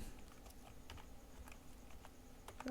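Keys clatter on a computer keyboard in quick, irregular bursts of soft clicks, close and fairly quiet over a faint background hum, while a Google Forms question is typed.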